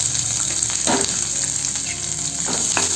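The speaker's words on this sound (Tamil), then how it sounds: "நல்லா இதை வதக்கி விட்டுக்கலாம்." Finely chopped shallots sauté in hot oil with popped mustard seeds and cumin, a steady close sizzle with soft scraping and stirring sounds from a spatula mixed in.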